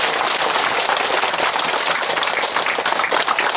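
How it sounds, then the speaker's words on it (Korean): Worshippers at a Buddhist temple opening ceremony give the head monk a sustained round of applause, dense and even throughout, fairly loud and close. "주지 스님께 박수로 합니다."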